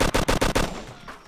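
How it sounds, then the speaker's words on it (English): A rapid burst of automatic gunfire in ARMA: Cold War Assault, about five sharp, loud, evenly spaced shots in quick succession that then fade into a brief reverberant tail. "Somebody shot back"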